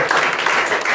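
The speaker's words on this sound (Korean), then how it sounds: "박수 한번 하시겠습니다." Audience applause at a church mission forum, a dense loud burst of clapping filling the full second.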